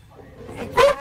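A man imitates a dog with one short, loud vocal bark near the end, after quiet, low background sound.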